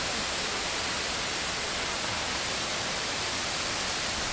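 Norvan Falls roars continuously in wet winter weather, a dense, steady hiss of rushing water heard close up with no other sounds.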